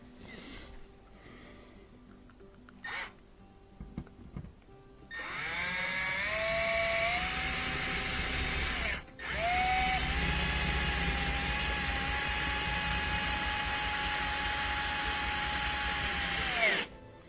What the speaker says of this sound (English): we'll go ahead and put in the screw that holds it